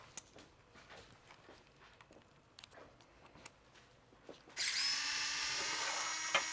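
After a few seconds of quiet clicks and handling of FTC robot parts, a power drill starts up and whirs steadily and loudly while bolting parts onto the robot.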